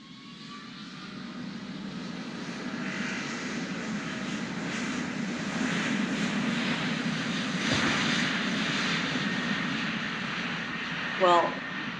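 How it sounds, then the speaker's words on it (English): Airliner engines drone steadily from inside the cabin during a flight to El Salvador: a constant, loud, broad roar with a deep hum that barely changes and ends in a brief knock. "please put your trays and your seats in the upright position. Fasten your seat belts and remain seated for the entire flight."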